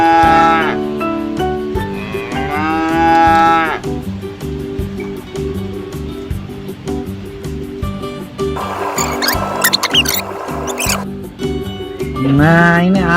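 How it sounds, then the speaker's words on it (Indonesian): Water buffalo lowing at a safari park in Bogor, long droning moos standing out over steady background noise, with voices talking nearby. "Tuh lihat itu ada kerbau tuh."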